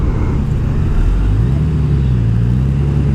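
A 2018 Honda Goldwing motorcycle engine runs close and loud with a deep, steady rumble, rising in pitch as the throttle is opened.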